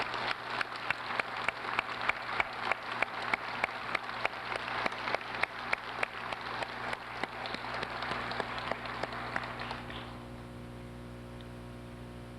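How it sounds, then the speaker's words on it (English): Graduates are applauded at a spring convocation in a large hall. The clapping sounds faint and distant over a constant electrical hum, then fades out near the end, leaving only the hum. "Please join me in a round of applause for our graduates"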